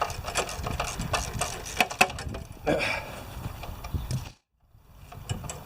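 A ratchet loosens the bolts on the shroud of a Briggs & Stratton engine. Its quick clicking runs in bursts with a few knocks, then stops for a short silent gap before resuming.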